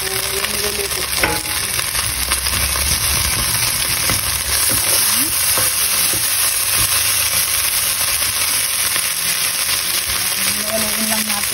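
Fried rice with tomato is stirred in a hot pan, the spatula scraping steadily over a loud, continuous sizzle and hiss that lasts throughout.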